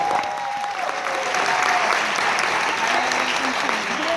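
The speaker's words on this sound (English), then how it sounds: "Give yourselves a round of applause." A large arena crowd at a motivational speaking event claps loudly and steadily, a thick continuous roar of hands with some voices and chatter mixed underneath.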